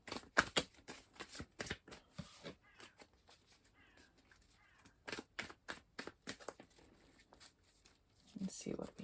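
Tarot cards are shuffled and cut into piles in a series of quick papery riffles and taps, close and soft, with a voice speaking at times between them.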